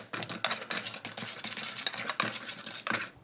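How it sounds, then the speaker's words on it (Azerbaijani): Starch and other chocolate sauce ingredients get stirred in a bowl, a fast continuous scraping swish with brief pauses between strokes, close and loud with no voices. "Bunları qarışdırırıq."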